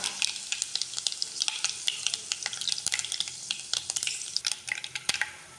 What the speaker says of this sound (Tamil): இப்போ கடுகு ஆட் பண்ணிக்கோங்க அதுக்கு அடுத்தது வெந்தயம் ஆட் பண்ணிக்கோங்க அதுக்கப்புறம் காஞ்ச மிளகா